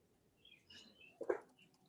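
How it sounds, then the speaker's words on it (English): Birds in a backyard give a few faint, brief chirps and one louder call, sparse and somewhat distant against a quiet background. "you hear a lot of birds in our yard."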